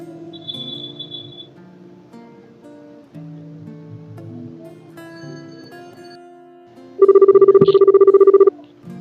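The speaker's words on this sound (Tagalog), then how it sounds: "Sino kaya itong tumatawag?" A telephone rings with an incoming call: a loud, steady electronic ringtone bursts in after quiet background music and repeats rapidly for about a second and a half before stopping.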